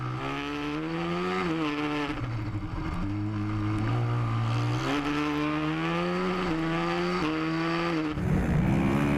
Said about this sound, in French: départ de la première course super quadeur